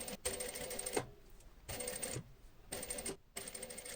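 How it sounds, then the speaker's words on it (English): Sewing machine stitching around a double welt pocket on leather, quiet mechanical whirring in three short bursts separated by brief pauses. "And now we stitch around."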